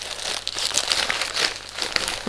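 Papers being stuffed back into a bubble envelope, with dense crinkling and crackling plastic and paper rustles in quick irregular bursts, close and fairly loud, no talk.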